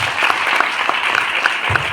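Brief burst of audience clapping at a motivational seminar, dense and continuous, with a few louder individual claps standing out close by.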